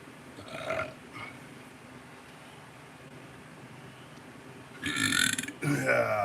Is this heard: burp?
yes